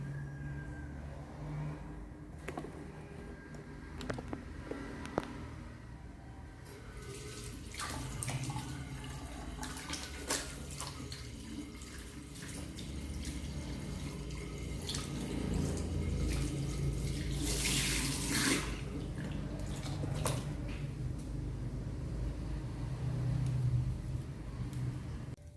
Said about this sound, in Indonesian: kita melakukan cuci tangan.